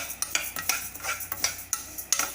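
Urad dal is stirred in a pan while frying for chutney powder, with a steady rhythm of scraping, ticking strokes of a spatula against metal, close and soft, with no talking.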